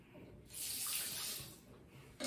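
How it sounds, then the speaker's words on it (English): Tap water runs into a bathroom sink for rinsing shaving lather off the face, a steady close hiss that swells, holds, then fades, with a brief splash at the end. "I'm just going to rinse the face."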